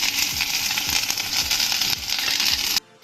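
Finely chopped ginger drops into hot sesame oil, where mustard seeds and curry leaves are already cooking for a dates pickle, and it sizzles and crackles loudly and steadily before the sound cuts off abruptly.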